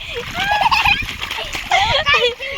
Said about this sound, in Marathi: हे सगळं पाणी बघा कसं वाहत आहे